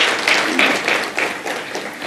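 Audience at the World Education Congress 2015 applauding India, a dense burst of many hands clapping that swells and pulses in uneven waves for about two seconds, fairly loud and close.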